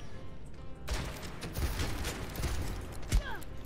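Gunfire from Ashe's rifle in the first-person shooter Overwatch, a few sharp, loud cracks amid busy game noise and scattered impacts.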